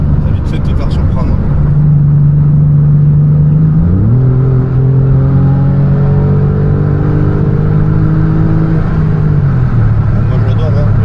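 A Porsche 911 Carrera type 996 flat-six engine accelerates hard, its steady drone climbing in pitch through a gear change around the middle and settling lower near the end, loud and close from inside the car.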